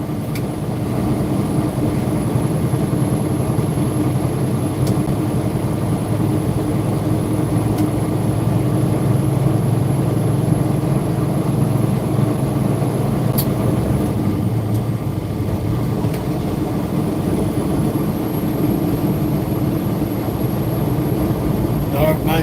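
A Nissan car drives on Interstate 5 in afternoon traffic, a steady loud rumble of road and engine noise inside the cabin, with people talking over it.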